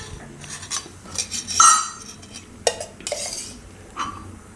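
A pan set on a gas stove with ghee for a cumin tempering gives several close, sharp metallic clinks and scrapes of utensils against it, with no talking.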